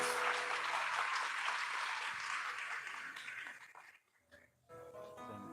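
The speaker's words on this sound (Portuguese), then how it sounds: "Uma salva de palmas." A church congregation at an Easter Sunday service breaks into applause, a broad wash of clapping that fades over a few seconds before a brief hush and then a voice and music resume.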